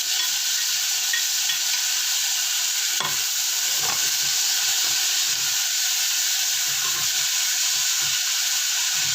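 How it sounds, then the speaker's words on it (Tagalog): Tomatoes and onions sauté in a pan for okra and dried fish, sizzling and frying in a steady, close hiss throughout, with a few spoon stirs and clacks against the pan. "Gigisa na natin yung ito guys, madami yung kamatis."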